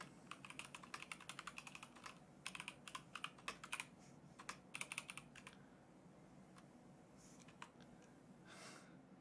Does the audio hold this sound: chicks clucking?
no